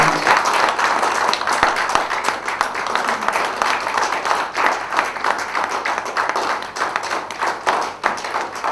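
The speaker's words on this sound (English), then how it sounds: "big round of applause, ladies and gentlemen, for this proud moment." Audience applause at a ceremony marking a foundation's partnership agreement signing, a sustained burst of many hands clapping, loud and steady for several seconds with individual claps audible up close, no speech over it.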